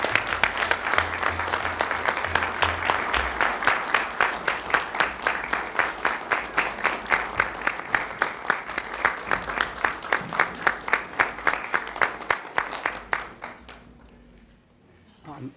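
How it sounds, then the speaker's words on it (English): A county commissioners meeting audience gives loud, sustained hand-clapping for about thirteen seconds, with rhythmic unison claps emerging before it abruptly stops into near silence. "that deserves a round of applause"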